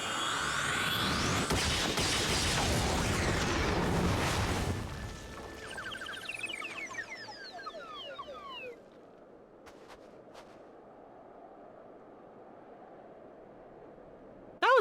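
A limit break animation in Final Fantasy XIV: a loud, noisy blast of crashing and rumbling impacts for several seconds, followed by a shower of bright sweeping chimes and sparkles that fade into quiet ambience.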